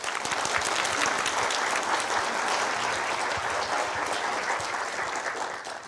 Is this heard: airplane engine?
no